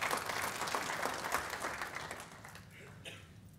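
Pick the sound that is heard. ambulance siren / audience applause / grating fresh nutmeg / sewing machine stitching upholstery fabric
audience applause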